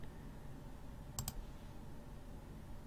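Two quick mouse clicks, close and crisp, in a short burst over a quiet room hum while attacking a sleeping rat in the game Brogue.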